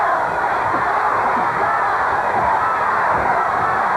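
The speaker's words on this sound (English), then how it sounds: "Fans making noise for Chris, the heavy crowd favorite." A wrestling crowd at a WCCW match roars for Gentleman Chris Adams in his bout against Gary Young, a dense, steady wall of cheering that holds at full loudness without a break.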